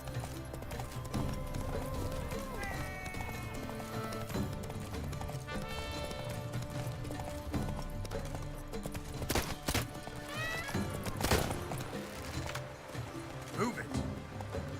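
Roach, the horse in the video game Witcher 3, gallops with a steady, close clip-clop of hooves and gives a brief whinny, all over continuous game music and ambience, with a voice talking at times.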